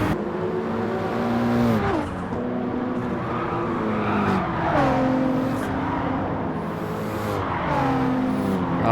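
A Gran Turismo 7 race car accelerates hard, its loud, close engine note climbing in pitch and dropping sharply at each upshift, in a steady cycle of revving and gear changes with no voices.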